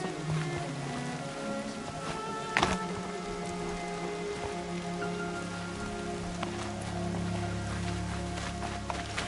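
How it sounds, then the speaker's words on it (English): Steady rain in the video game Horizon Zero Dawn patters across surfaces in a continuous hiss, with a sharp knock partway through and a low rumbling drone underneath. "Everything's sharp and looming in the rain."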